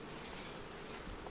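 Honeybees buzz in a dense, continuous drone as they are shaken into a hive box with a smoker going nearby. The swarm is heard alone, faint and steady.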